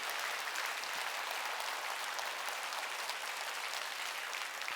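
A church congregation breaks into sustained applause, a dense, even wash of many hands clapping together at a steady level throughout, slightly distant and without talk.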